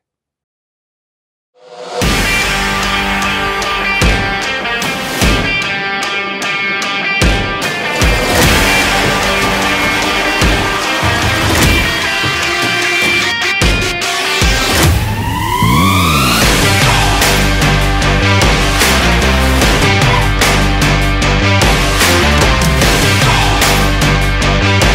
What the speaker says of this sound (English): Let me show you a short video of test drives with another MT vehicle.